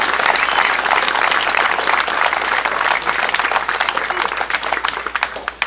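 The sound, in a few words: audience applause at Memorial Day ceremony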